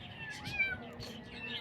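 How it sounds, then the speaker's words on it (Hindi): Cat meows quietly twice in a short, faint clip, with soft background noise. "म्याऊं म्याऊं करके खुजा रहे हो"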